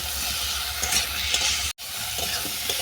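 Soybean curry with salt and turmeric frying in a pan, a loud close sizzle with brisk continuous stirring scrapes, briefly cut to silence midway, and no voices.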